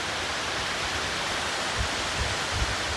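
Jeriau waterfall at Fraser's Hill roars as a steady, even wash of rushing water, with no voices over it.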